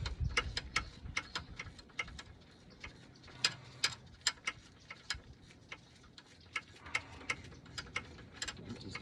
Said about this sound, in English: Little ratchet wrenches.